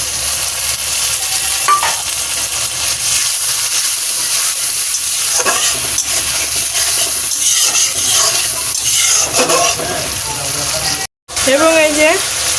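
Chili powder and turmeric spice paste sizzling loudly in hot oil in a pan while being stirred, with bubbling and scraping, a brief cut near the end, and a voice talking over it.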